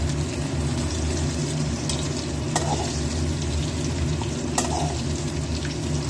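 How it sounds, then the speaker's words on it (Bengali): Eggplant pieces go into hot oil after pointed gourd has been fried, giving a loud, continuous sizzle with stirring and occasional sharp clinks of a utensil against the pan. "পটলগুলো লাল লাল করে ভেজে নিয়েছি, এবার দিয়ে দেবো বেগুন"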